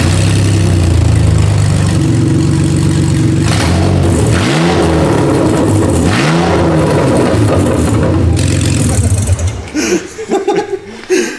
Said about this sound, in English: I'm actually so curious what it sounds like with just no exhaust